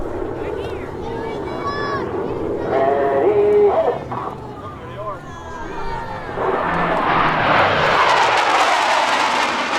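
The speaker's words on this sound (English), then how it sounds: "Pilots will simultaneously roll their aircraft 360 degrees as they perform the Diamond Aileron Roll" Navy Blue Angels jets fly the Diamond Aileron Roll at the Millville Airshow, their engine roar swelling into a loud broad rush in the last seconds, after a stretch of talk with faint whistling sounds beneath it.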